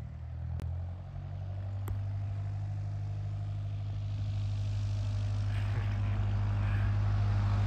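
A propeller airplane drones steadily overhead at a small airport where skydivers are landing, a continuous low engine hum that holds level and grows slightly louder toward the end, with no talking.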